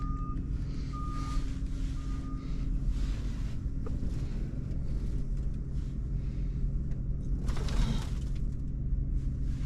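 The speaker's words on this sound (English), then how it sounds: "Boy, it's windy." Wind buffets across a farmyard in a steady, broadband rush, with a rumbling tractor-like engine running underneath, intermittent reversing-style beeps early on, and a brief louder gust or clatter near the end.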